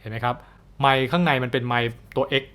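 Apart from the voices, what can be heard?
No distinct noise like a dog, phone or traffic.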